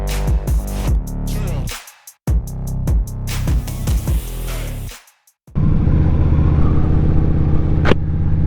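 A motorcycle accelerates up through the gears on a road ride, loud and close, with engine revs that climb and drop between shifts, cut by two short silent gaps before a steady drone.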